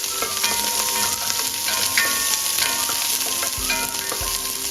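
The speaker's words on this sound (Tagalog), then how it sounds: "gisa lang natin siya ng mga 1 minute" Onion sizzles loudly and steadily in a hot pan for a pork caldereta, a dense close frying hiss with light scraping of a stirring utensil and no talking.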